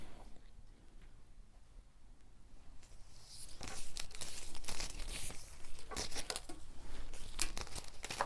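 Scissors cut fabric along a curved line for the back of a bodycon dress, a faint rustle that turns into repeated crisp snips and crinkles in the second half, close by with no talking.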